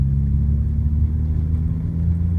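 A manual transmission car engine accelerating while shifting gears, a steady low rumble heard up close from inside the car, with no talk over it.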